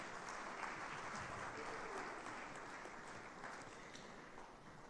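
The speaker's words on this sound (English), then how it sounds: "Please clap for her now." Faint, distant applause for the Director of Sales of Echo Hotel and Suites at the HMC Africa 2025 event, a steady roomful of clapping that tapers off slightly toward the end.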